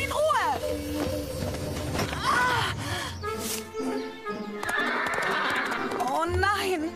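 Horses whinny loudly several times, high shrill neighs rising and falling, with hoof clatter and other sounds mixed in between.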